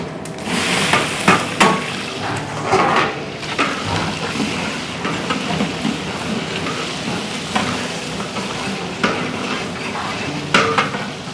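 About 2.5 kg of onions fry in oil in a large pot for a big batch of vegetable biryani, a continuous sizzle broken by repeated sharp metal clanks and scrapes of stirring.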